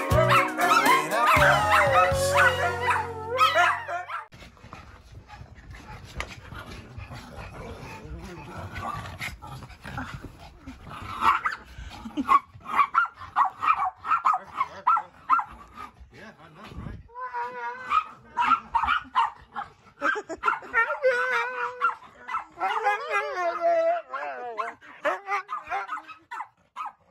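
Husky dogs whine, yip and bark in bursts after an opening stretch of music, vocal sounds close and fairly loud, with human voices mixed in at times.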